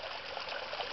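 Water surging through a long hose output line driven by a compression wave, a steady rushing, trickling flow close by with no pauses and no voices.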